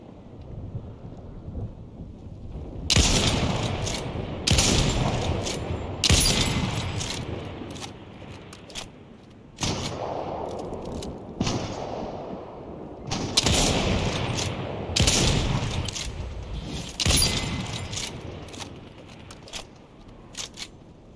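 Gunfire in the Fortnite video game, repeated bursts of rapid shots in uneven clusters separated by short pauses, sharp and fairly loud, ringing against a rumbling background with no talking.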